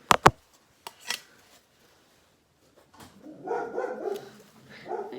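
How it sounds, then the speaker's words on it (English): A dog barks twice nearby, sharp and loud, followed by a faint yip, then a quiet stretch before a muffled murmur of voices. "I guess my dog's found something to bark at"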